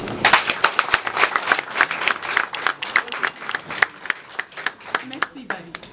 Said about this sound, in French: je vous demande de vous faire tous mon messager pour applaudir M. Barry